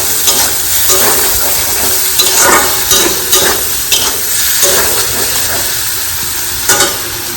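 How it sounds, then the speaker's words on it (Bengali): Fish lightly frying in a kadai wok gives a steady, close sizzle and hiss, broken by periodic stirring scrapes, with no voices. "মাছগুলোকে আমি হালকা ফ্রাই করে মিশিয়ে দেবো।"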